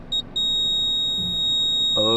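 A car's reverse parking sensor beeps after the driver shifts into reverse, giving a couple of quick electronic beeps that merge into a steady continuous tone, with a voice starting to speak right at the end.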